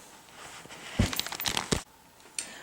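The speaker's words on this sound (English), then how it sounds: "anyway, I'm stepping on bubble wrap. That's the crinkly noise you're hearing." Bubble wrap crinkling and popping underfoot as someone steps on it, in a few short crunchy bursts with brief pauses, close and fairly quiet.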